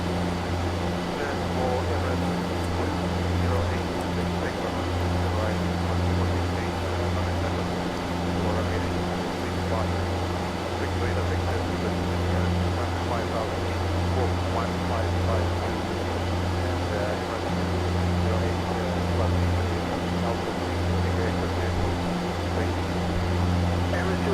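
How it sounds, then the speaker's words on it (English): An aircraft engine hums steadily inside the X-Plane 11 flight simulator on a flight departing Chicago O'Hare, a constant low droning tone heard close and unbroken throughout. "I may have to turn the engine sound down because you can't really hear the chatter very much with the engine."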